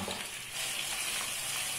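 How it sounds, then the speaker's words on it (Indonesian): Two handfuls of sliced sweet potato frying in hot oil for carang mas, a steady close hiss and crackle of bubbling oil, fairly quiet and without talk. "di sini saya menggoreng ubinya sebanyak 2 genggam dulu ya"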